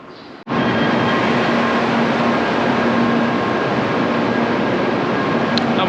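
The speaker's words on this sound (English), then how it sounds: "I'm on the 7:34 bullet train. There's one right there." A bullet train rushes past in Hiroshima, a sudden onset of loud, steady broadband roar that stays dense and close for several seconds with a faint whining tone running through it.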